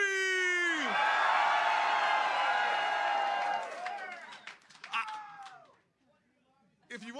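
Political rally crowd screaming and cheering for Donald Trump in New Hampshire, a loud sustained roar of shrieks and whoops that gradually breaks up into scattered yells before fading, then rising again.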